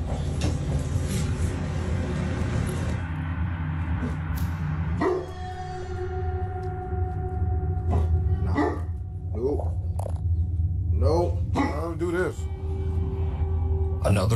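A dog barks and yips in short bursts, several sharp close calls clustered toward the end, with a person talking over them at times.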